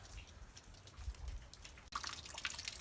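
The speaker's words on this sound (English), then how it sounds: "they have water dripping right down in" Water drips inside a cliff dwelling ruin in Walnut Canyon, faint irregular drops and trickles echoing softly in a quiet rock alcove, with a brief sharp tap partway through.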